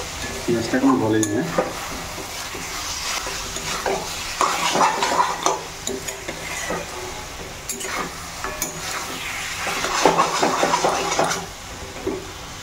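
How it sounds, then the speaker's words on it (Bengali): Mutton pieces sautéing in a kadai, sizzling under repeated scraping and clinking stirs of a metal spatula, close and busy throughout, with faint background voices. "তো এদিকে দেখো মাটনটা সুন্দর করে কষানো হচ্ছে।"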